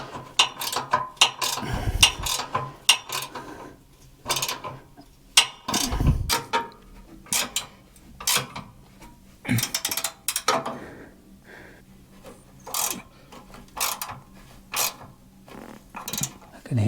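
Burnpot bolts being tightened on a Harman P68 pellet stove, a string of close, short metallic ratcheting clicks and scrapes in bursts with pauses between, occasional low thumps, no talking.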